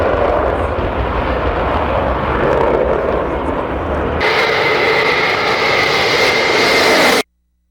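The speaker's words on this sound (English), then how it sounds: "Concorde has 4 Olympus engines mounted under the wings." Concorde's four Olympus jet engines mounted under the wings, afterburners lit, roar loudly and continuously, with a sudden shift to a brighter, higher-pitched roar partway through before cutting off abruptly.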